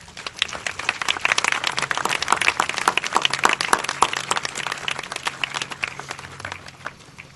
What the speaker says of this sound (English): Please take time to thank them with a round of applause.